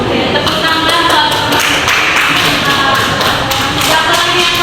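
Classmates applaud in a classroom, a dense run of claps and taps that holds steady and fairly loud throughout with no talking.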